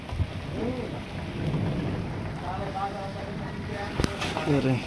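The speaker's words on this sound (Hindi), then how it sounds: "इतनी तेज बारिश और हवा भी तेज है ऊपर से।" Steady heavy rain with a gusty roar, a person talking in Hindi over it throughout.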